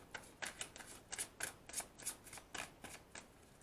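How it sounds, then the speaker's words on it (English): Tarot cards are shuffled by hand up close, a quick series of about ten soft riffling and slapping bursts in uneven rhythm, quiet and with no talking. "One more shuffle."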